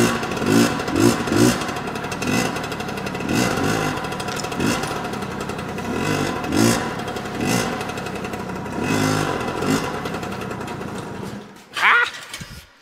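A Yamaha PW80 two-stroke dirt bike engine revs hard at wide open throttle in a shop, buzzing loud and close with repeated swells, then cuts out near the end before a brief sputter.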